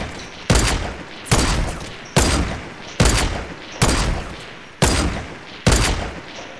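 Loud, close minigun fire in the Fortnite battle game, repeated in eight sharp bursts at an even, quick rhythm with no talking.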